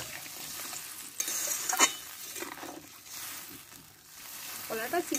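Water goes into a pan of spiced green banana pieces frying in masala, bringing a burst of sizzling and hissing with stirring scrapes and soft pan clatter, fairly quiet and close, with no clear speech.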